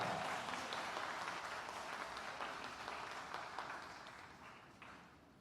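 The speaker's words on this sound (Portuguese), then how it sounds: "Aplauda ao Senhor e pode se assentar." A church congregation applauds together, a dense, rapid patter of many hands that is full at first and then gradually fades away.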